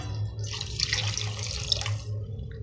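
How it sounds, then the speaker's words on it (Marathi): Water poured into simmering gram flour and yogurt kadhi in a pan, a close, continuous splashing trickle lasting a couple of seconds over a low background hum, without talk. "आणि गरजेनुसार वरतून पाणी सुद्धा घालणार आहोत।"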